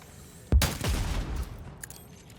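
A gunshot in the video game Warhammer 40,000: Dark Heresy, one sudden loud crack followed by a rumbling crash and echoing tail that fades within about a second.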